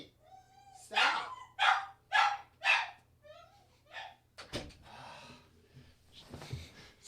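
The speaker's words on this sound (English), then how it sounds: "Sorry, my dog is going nuts." A pet dog barks indoors in a burst of four loud, evenly spaced barks, then a few softer yelps and snorts with a voice and shuffling noise underneath.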